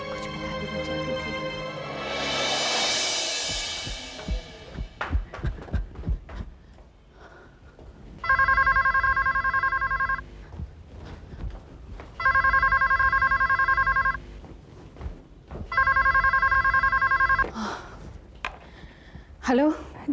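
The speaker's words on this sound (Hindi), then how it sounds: "मैंने जीना को फोन किया, उसे सब कुछ बता देना चाहती थी।" A telephone bell rings in four loud repeated bursts with short gaps, following some speech and background sounds in an indoor scene from a Hindi TV drama.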